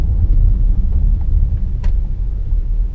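A 2017 Audi Q5 Sport 2.0 TDI S-tronic quattro accelerates steadily on a test drive, giving a deep continuous engine and road rumble heard from inside, with one brief sharp click partway through.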